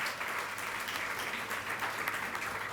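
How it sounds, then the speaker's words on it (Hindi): An audience claps for Bushra at an International Day of the Girl Child event, a dense, even burst of applause sustained for nearly three seconds without any voices on top. "एक बार पुनः झूम कर तालियां।"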